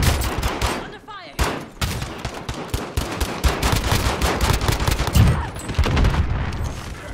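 Rapid automatic gunfire and scattered shots in a Warzone Rebirth Island trios match, dense and continuous bursts filling nearly the whole stretch with only a brief lull.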